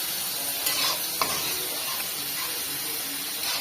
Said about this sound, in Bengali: আম্মা আলুটা ভাজে নিচ্ছি